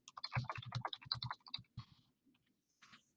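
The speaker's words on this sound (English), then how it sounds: "This is the teacher typing." A teacher types on a computer keyboard: quick, quiet clusters of key clicks with short pauses, close by, fading into sparse taps toward the end.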